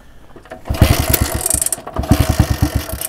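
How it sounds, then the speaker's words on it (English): An engine sputters and pops close by in two bursts of rapid, uneven thumps over a rough running note, sounding like repeated backfires. "Careful, mate, it's backfiring."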